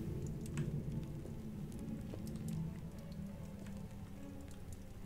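Heavy rain falls in The Solus Project as a quiet, continuous patter of drops over a low, steady rumble, unbroken throughout.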